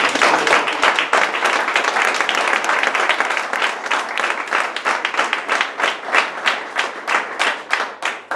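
Sustained audience applause at a ceremony honouring a uniformed service corps, dense steady clapping from a large crowd that holds throughout and thins slightly toward the end.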